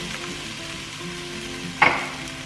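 Chickpeas and potato sizzle steadily in a hot pan, a constant close frying hiss with a brief louder scrape and crackle of stirring near the end.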